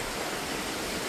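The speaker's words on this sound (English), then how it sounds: "This is the ocean at nighttime." Ocean waves in the open sea at night beside a cruise ship, a steady broadband wash of water rushing without distinct breaks, moderately loud and continuous with no voices.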